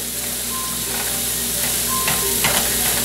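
Mushrooms and escargots sautéing in a pan give a steady, loud sizzle throughout, with a few brief stirring scrapes and clicks near the end.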